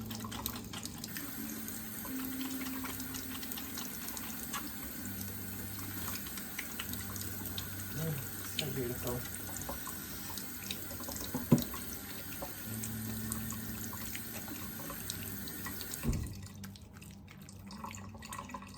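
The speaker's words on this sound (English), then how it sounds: "I'm going to do a quick hand wash so you can actually see my soap in action." Tap water runs steadily into a sink during a quick hand wash with homemade cold process soap, a continuous splashing flow with a few drips, cut off near the end; a short spoken remark briefly overlaps.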